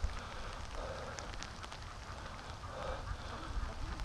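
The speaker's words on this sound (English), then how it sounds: "I said it was raining, well, now it's on top of us." Steady rain falls over open water near a dock on a free-range duck farm, a soft continuous hiss at close range with no talking.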